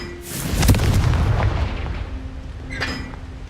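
A Confringo blasting spell goes off in Hogwarts Legacy as a loud, close booming explosion that rumbles and decays, followed a couple of seconds later by a smaller crackling burst.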